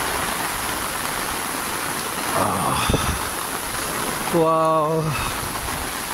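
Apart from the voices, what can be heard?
rain falling on a habagat morning in Boracay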